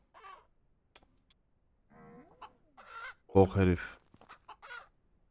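Chickens cluck in the farming video game Ranch Simulator: a few scattered soft clucks, then one louder drawn-out squawk near the middle, with someone talking in between.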